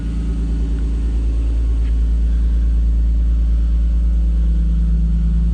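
A Nissan Skyline R32 engine idles steadily up close, a deep, constant rumble that holds even for several seconds with no talking.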